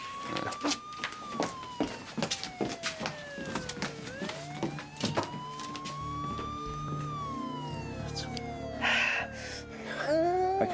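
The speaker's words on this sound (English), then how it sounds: "I can hear the ambulance, okay? It's right outside." A wailing ambulance siren sweeps up and down repeatedly, loud and close, with rhythmic horn-like bursts and traffic noise beneath it.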